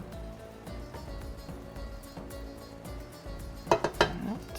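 Eggs for menemen are stirred in a pan over a low sizzle, with soft scraping at first and then a few sharper clinks of utensil on pan near the end.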